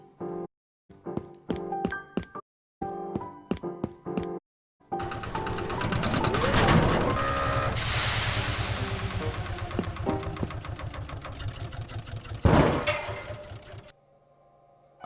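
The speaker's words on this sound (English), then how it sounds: "Start the engine, Gavin." Engine starting and running in the point-and-click game The Adventures of Bertram Fiddle: a series of sharp clunks and rattles, then a loud, sustained mechanical chugging rumble with a bang near the end, heard alone.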